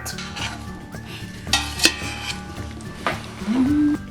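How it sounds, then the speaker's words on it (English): A spoon stirs a soup pot holding browning mirepoix, with metal scraping and clinking against the pot in a few irregular knocks over a low background hum. "Can you grab that spoon and give it a good stir?"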